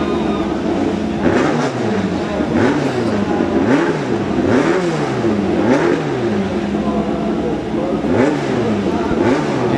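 A Pro Stock drag racing car at the starting line revs its engine hard and repeatedly in loud, rising and falling bursts, with an announcer talking over the roar.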